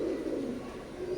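Soft, continuous low cooing from a pair of Oman blood line teddy pigeons, close by and steady throughout with no voices.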